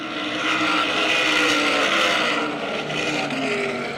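Modified race cars roaring around Lancaster Speedway during a heat race, loud, sustained engine drones swelling and fading as a pack passes close by, layered growl from several cars at once.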